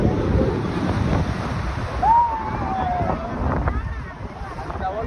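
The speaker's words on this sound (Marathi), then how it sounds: "तुम्हाला आता मी लाटा दाखवतो डायरेक्ट जवळ" Sea waves breaking and washing in close by on a Goa shore, mixed with gusty wind buffeting the microphone; a faint whistle-like tone rises briefly midway.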